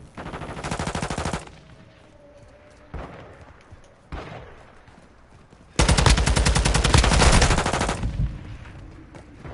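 Two bursts of rapid machine-gun fire in a video game, loud and close, one short burst early on and a longer sustained burst later, with a few isolated shots between them.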